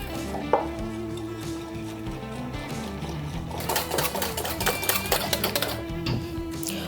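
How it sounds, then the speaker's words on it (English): A whisk beats madeleine batter with orange zest in a bowl, making a rapid, steady clatter close by that grows busier and louder toward the end. "Now we will whisk it very well."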